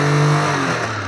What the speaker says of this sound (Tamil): ஒரே செல்ஃபில் ஸ்டார்ட் ஆயிரும் வண்டி.